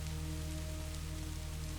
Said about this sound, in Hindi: बाहर की तरफ देखा तो बहुत ज्यादा बारिश हो रही थी, बिजली कड़क रही थी।